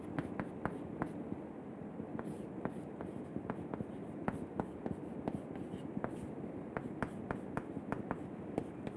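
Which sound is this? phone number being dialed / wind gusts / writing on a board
writing on a board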